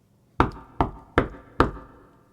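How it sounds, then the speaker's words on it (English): Four sharp knocks on a door, evenly spaced about a third of a second apart, close and loud with short decays, alone in a quiet room. "Just then, he heard a knock on the door."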